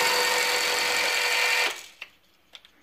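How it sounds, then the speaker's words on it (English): Classic Army M132 airsoft microgun with its barrel spinning: a loud, steady electric motor whine for under two seconds that cuts off abruptly, followed by a few faint clicks. "trigger, you can see the barrel spin."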